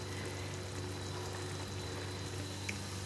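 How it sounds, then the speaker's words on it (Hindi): Onions fry in a pan for dhaba-style chana mash daal, a steady, dense sizzling hiss heard close and continuous throughout. "और प्याज भी हमारा फ्राई हो चुका है।"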